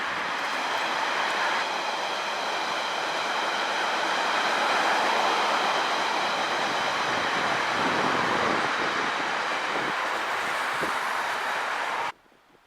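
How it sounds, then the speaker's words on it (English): A London Underground train rolls past at Snaresbrook station with a sustained rushing rumble and a steady high whine, loud and continuous, then cuts off abruptly near the end. "you've got a brilliant view of trains departing from Snaresbrook and arriving at Snaresbrook"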